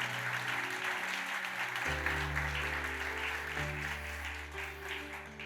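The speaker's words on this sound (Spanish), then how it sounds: "Denle un aplauso a Él." Applause from a church congregation during a Spanish-language service, steady clapping throughout with a low sustained organ or keyboard chord underneath.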